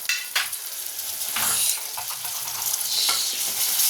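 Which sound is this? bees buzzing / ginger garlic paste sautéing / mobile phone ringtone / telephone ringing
ginger garlic paste sautéing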